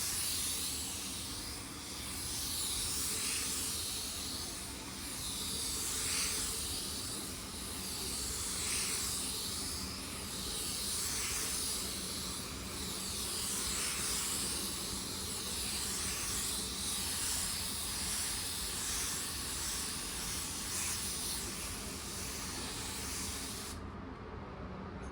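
A paint spray gun lays a wet second coat of basecoat in one continuous, close, loud airy hiss that hardly varies, then cuts off abruptly near the end.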